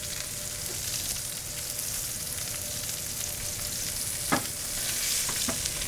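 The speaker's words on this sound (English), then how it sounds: "you're searing it correctly to get a nice crust" Steak searing in a hot pan sizzles steadily throughout with a dense, even hiss, and a few brief clinks or scrapes from handling near the end. No one speaks.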